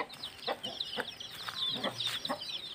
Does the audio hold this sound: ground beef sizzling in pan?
no